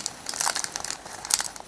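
A sheet of paper crinkles and rustles in quick, close bursts as it is folded in half for an owl craft.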